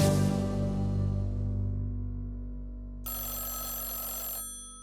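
An old-style telephone bell rings loudly, its clanging tone ringing out and decaying, then a second shorter burst of ringing follows before fading.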